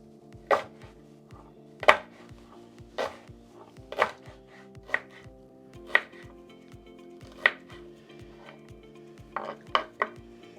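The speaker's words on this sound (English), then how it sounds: "Once you've got the leeks all sliced, about 1/4 of an inch" A knife chops sliced leeks on a cutting board in about a dozen crisp, evenly spaced knocks, close and clear over a faint steady background hum.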